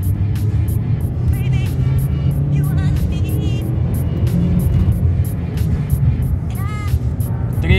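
A Chevrolet Lacetti fitted with a homemade catalytic converter accelerates in second gear, its engine rising in a steady, loud drone heard from inside the car, with a sharp rhythmic ticking running over the top.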